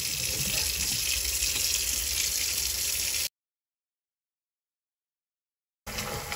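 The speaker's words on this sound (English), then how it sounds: "Leave the water running." A kitchen sink tap runs with a steady gushing stream into the basin, loud and constant, then cuts to silence for a few seconds before the flow resumes.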